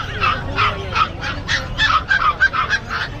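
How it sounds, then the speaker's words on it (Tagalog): Loud, repeated gobbling calls from a nearby turkey, a rapid series of nasal bursts close together. "may pabo ka dito ah."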